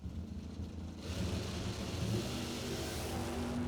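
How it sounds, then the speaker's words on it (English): Drag racing cars launch hard down the track at a bracket race, a deep engine roar swelling loud after the first second and holding steady to the end. "Good drag race right here."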